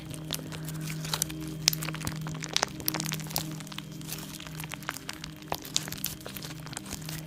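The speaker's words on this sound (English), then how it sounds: "that like low crunch of the block beads is really satisfying" Slime packed with block beads is squished and pressed close to the microphone, giving a continuous run of low crunches and sharp crackles in an uneven rhythm, with no talk.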